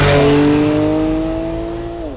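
A Porsche 911 Carrera GTS engine roaring loudly, holding a steady high pitch before the tone drops and fades as it pulls away.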